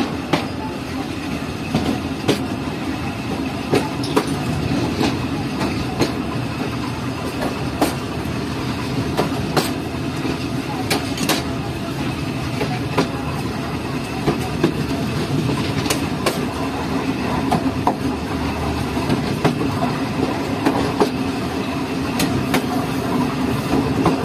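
The Mohenjo Daro Express runs along worn track between Kotri and Rohri, a loud, steady rumble from inside the train with frequent rhythmic wheel clatter over rail joints throughout.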